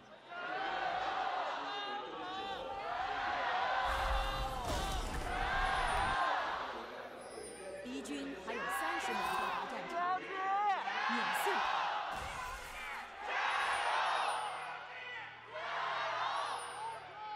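Esports arena crowd at an LPL Spring Playoffs semifinal between Bilibili Gaming and Top Esports, a loud sustained roar of cheering and whooping that swells and surges in waves over the full stretch, with shouted voices mixed in.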